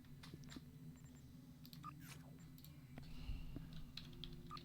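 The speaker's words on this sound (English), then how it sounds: "I started typing Aquarius" Faint, quick keystrokes on a computer keyboard at close range, a scattered run of light clicks over a low background hum.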